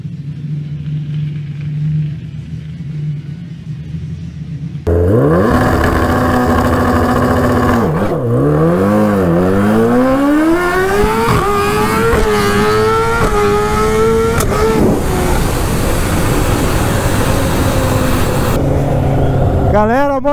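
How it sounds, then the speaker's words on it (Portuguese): A drag-strip motorcycle at Velopark, Brazil, fitted with an air shifter, roars to life after a quiet start and climbs through its gears in a rapid series of loud revving pulls. A voice talks over the engine. "A moto trocou as marchas, saí mal, a moto apagou, mas a moto trocou as marchas. Air shifter funcionando"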